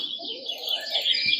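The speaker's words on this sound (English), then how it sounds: "ambient sounds like this forest over here" Forest ambience played from an alarm clock night light speaker: birds chirping and twittering steadily over a gentle airy hiss, continuous and moderately quiet.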